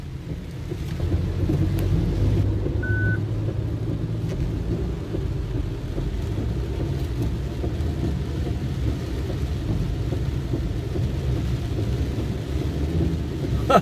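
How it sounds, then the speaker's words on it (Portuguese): Heavy rain pours during a motorcycle ride through flooded streets in Rolândia, a constant wash of rain hiss and low road and engine rumble that stays steady and close the whole time. "nessa quinta-feira estamos dando mais uma voltinha aí durante uma chuva forte"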